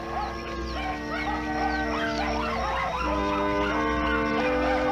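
Several huskies or malamutes howl together in long, wavering tones, with yips and whines mixed in, continuous and moderately distant.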